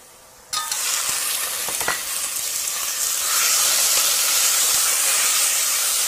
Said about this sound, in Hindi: ऑयल लेने के बाद आप अब इसमें हम ऐड कर देंगे मटन।